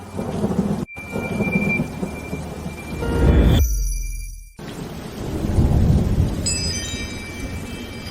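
Heavy rain pours steadily while loud rolling thunder rumbles close by, swelling and fading twice amid the downpour, with no voices.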